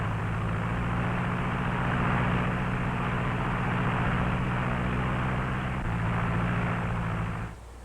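A propeller airplane in old 16mm film footage drones steadily with a loud engine hum and broadband hiss, continuous and unchanging until it cuts off near the end.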